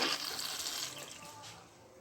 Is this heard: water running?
yes